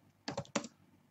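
Two quick bursts of laptop keyboard typing, close and fairly loud, with a short gap between them and near silence around them.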